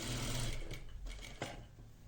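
A sewing machine stitching the other side of a pair of shorts, running briefly and close, then slowing to a few uneven mechanical clicks and a small knock.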